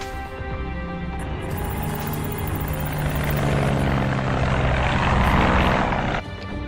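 A propeller airplane in a film scene drones loudly and steadily, with a whirring engine roar that swells slightly before cutting off abruptly near the end.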